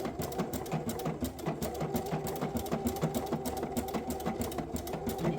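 A sewing machine runs steadily while stitching through Lutradur fabric, its motor hum and rapid needle chatter loud and close for the whole stretch with no talking.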